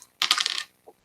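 A twelve-sided die and percentile dice tumble across a tabletop during a role-playing game, giving a crisp half-second clatter of several quick hits, then one faint tap as a die settles.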